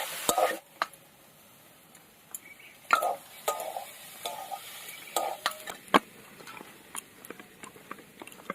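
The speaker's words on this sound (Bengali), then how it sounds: "সব কিছু দিয়ে এবার ভালো করে নেড়ে দেবো।" Chicken and green pea singara filling seasoned with black pepper powder being stirred in a kadai; close, irregular spatula scrapes and clinks against the pan with a soft sizzle underneath.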